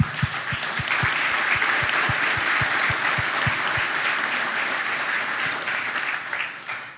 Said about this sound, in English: So can we give everyone a round of applause?